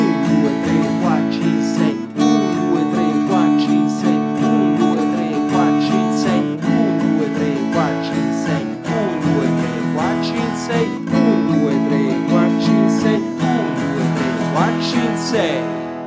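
Guitar strumming through a repeating chord progression in 6/8 time, a lilting triple-feel rhythm, steady and close, with no voices.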